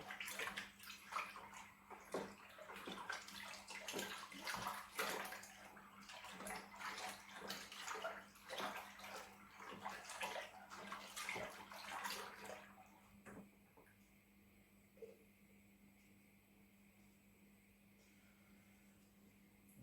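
Liquid sloshes and splashes rhythmically as beer kit concentrate is stirred into water, then the stirring stops and a quiet hum remains.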